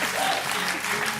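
Brief burst of audience applause at a motivational speech, steady dense clapping lasting about a second.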